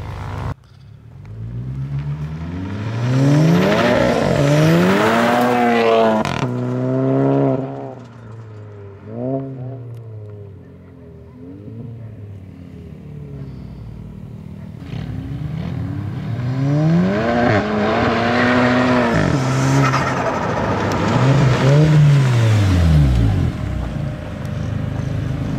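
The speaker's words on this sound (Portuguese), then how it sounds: "vou dar uma puxadinha agora" Tuned Volkswagen Golf GTI MK7 revving and accelerating hard with a loud, rising engine note in repeated pulls, a brief drop in between, then a second long, strong pull.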